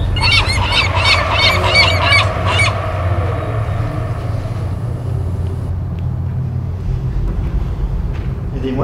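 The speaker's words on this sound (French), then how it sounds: "Il y a des mouettes à Grenoble?" A gull in Grenoble gives a quick series of loud, harsh repeated calls at fairly close range over a low rumbling background, then falls silent as the ambient hum continues.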